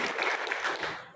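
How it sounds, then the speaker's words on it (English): A live audience at a cricket-themed event claps and cheers in a dense, continuous burst of applause that fades out toward the end. "Do I hear a round of applause and cheer for them?"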